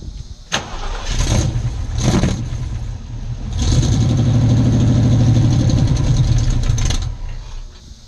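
An engine being cranked and started: short cranking bursts, then a sustained loud running engine for several seconds before it cuts off, no talking.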